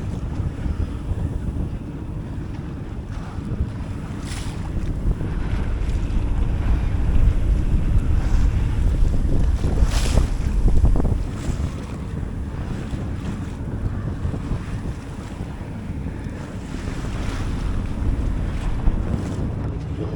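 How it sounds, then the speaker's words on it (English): Steady rush of wind and water aboard a sailboat under sail off the UK coast between Grimsby and Lowestoft, with continuous wind buffeting the microphone over the wash of waves along the hull, no talking. "Alright, we're back to sailing, the wind's picked up."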